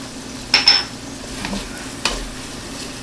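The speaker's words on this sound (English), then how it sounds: "we're just going to saute these in with the vegetables until it's fragrant" About three cloves of garlic sauté with softened vegetables in a pan for split pea soup with ham, a soft sizzle broken by a few spoon scrapes and stirring clinks, close and fairly quiet.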